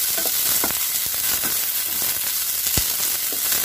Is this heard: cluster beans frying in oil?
yes